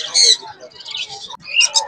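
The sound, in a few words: birds calling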